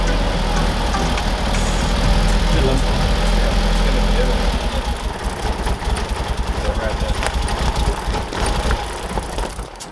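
Audi S3 8L engine idling on its first start in years, a steady low rumble throughout with excited voices talking over it.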